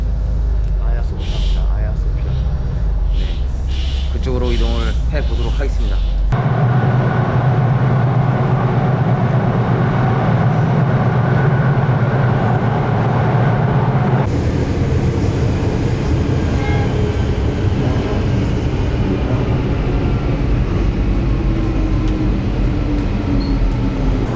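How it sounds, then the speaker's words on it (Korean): Istanbul subway train riding across to the European side, a steady rumbling rail drone with shifting tones as the car moves, close and continuous, with voices talking at times over the noise. "지금 유럽 쪽으로 넘어가려고 지하철"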